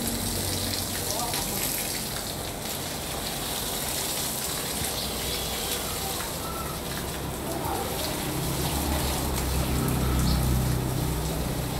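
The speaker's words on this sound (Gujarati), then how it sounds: "ઝાડવાને પાઈ છે પાણી." Water pours and splashes steadily as plants are watered outdoors at home, a continuous broadband rush that grows a little fuller near the end, with faint voices in the background.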